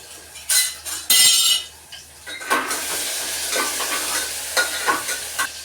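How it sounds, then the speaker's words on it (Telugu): Ginger garlic paste frying in peanut oil for mutton curry, a steady close sizzle broken by a few loud bursts of stirring and spatula scrapes against the pan, with no talking. "అల్లం వెల్లుల్లిపాయ పేస్ట్ వేగింది"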